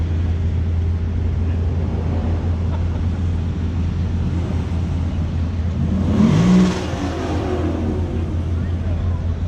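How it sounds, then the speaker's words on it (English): A Lexus LFA sports car at a Goldrush Rally event in Dallas, its engine humming steadily close by before a short, louder rev swells around the middle and then settles back into the low drone. "Ooh, that's an LFA"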